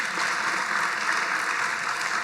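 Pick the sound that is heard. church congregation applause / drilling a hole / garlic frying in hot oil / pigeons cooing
church congregation applause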